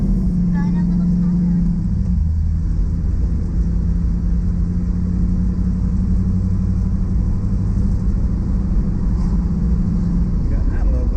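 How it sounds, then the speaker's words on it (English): A 1965 Mustang rumbles loud and steady with a low engine drone from inside the car, a continuous roar with no clear tire squeal. A voice talks over it. "she's already burning rubber"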